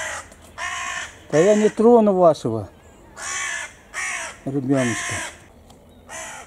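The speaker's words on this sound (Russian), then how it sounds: "Думаю, чего они каркают." Several crows caw loudly and nearby in repeated harsh calls, alternating with a person speaking outdoors in a town at sunrise.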